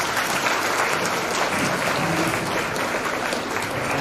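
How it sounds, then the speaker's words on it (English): Audience at an international clinical pharmacy conference in Orlando applauding, a dense continuous roar of many clapping hands, loud and steady throughout with no talk over it. "Clap for him."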